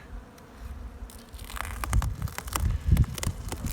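Honey bees buzzing at a foam-insulated hive during cleansing flights, a close droning hum that grows louder and busier, with rustling and light knocks from handling.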